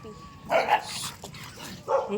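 Several stray dogs barking on an island street, a few sharp barks in short bursts at close to mid distance, with a person talking quietly nearby.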